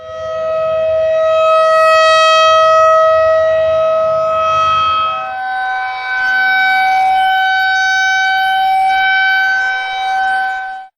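An electromechanical 2001 series 12-port civil defense siren blares loudly and close, holding a steady howling tone with a slight dip and pitch shift midway before it cuts off.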